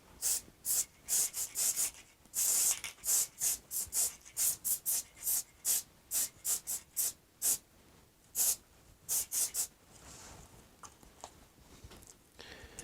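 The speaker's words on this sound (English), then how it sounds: "So I'll begin by spraying on some spray adhesive, spray glue." Repeated short bursts of spray adhesive hissing from a can, about twenty quick pumps in an uneven rhythm, close and loud, then quieter rustling of tissue paper at the end.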